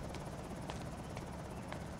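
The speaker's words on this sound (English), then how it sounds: "Probably hear the helicopter." Steady rhythmic thumping chop of a helicopter in the zombie survival game Project Zomboid, continuous and fairly faint, with regular blade pulses and no talk.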